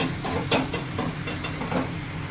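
Spices are stirred into lightly fried food in a pan, giving a soft steady sizzle with a few scraping strokes of the spoon, close and moderately quiet.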